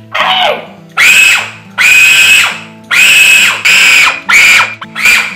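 A food processor motor whirs in loud bursts, starting and stopping about six times with a high screeching whine, short pauses between pulses.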